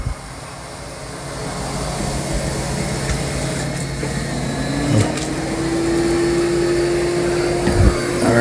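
A steady mechanical whir and hum of a Dyson Spot+Scrub robot vacuum mopping a floor, with a rising motor tone and occasional clicks and bumps.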